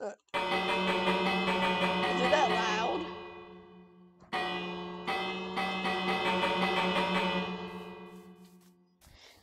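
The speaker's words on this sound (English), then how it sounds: "That's my doorbell." A chiming doorbell rings twice in sustained, bell-like tones that ring out and fade, with a brief voice speaking over it.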